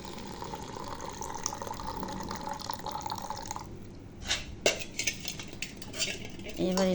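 Vermicelli in hot saffron milk is stirred in a pot. A soft, steady liquid wash gives way to several close metal spoon clinks and scrapes against the pot.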